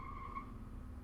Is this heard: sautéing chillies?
no